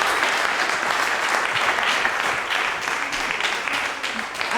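An audience at the close of a performance applauds loudly and steadily, a dense wash of clapping filling the room without pause.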